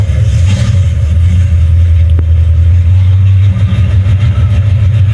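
A car pulling away on a test drive after repair work, its engine droning loud and steady with a low rumble, a faint click partway through, no voices.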